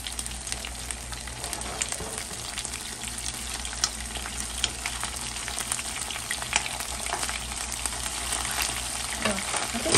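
Rockfish pan-searing in a pan, a dense, steady sizzle and crackle of frying heard up close and continuous, with faint scraping underneath.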